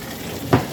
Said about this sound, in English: I use my wooden spoon and I blend it all together